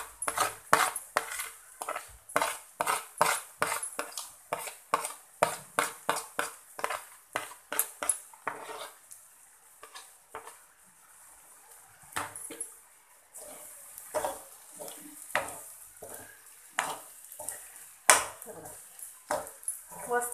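Grated boiled eggs are mixed and sautéed in a pan, heard as a quick run of sharp metal spoon scrapes and clinks that pause midway and then continue more sparsely, close and clear.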